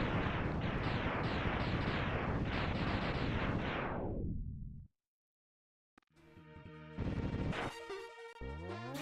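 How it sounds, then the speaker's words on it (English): Homing missile spell firing in Elden Ring, a dense, loud rumbling barrage of rapid impacts for several seconds that cuts to silence, then resumes with softer, tonal magical effects. "Man, that homing missile working overtime."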